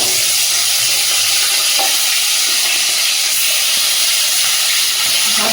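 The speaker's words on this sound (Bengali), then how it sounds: "মাছগুলো লবণ হলুদ আর তেল মিশিয়ে রেখে দিয়েছিলাম, ভেজে নেব।" Koi fish coated in salt, turmeric and oil frying in a hot pan of oil, a loud, dense, hissing sizzle running unbroken with occasional faint knocks, no talking.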